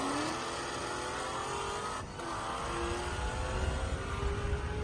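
Roaring engine of a 1000HP twin-turbo Ford F-150 making a street drag run, a loud, steady, dense drone sustained throughout with a slight dip midway.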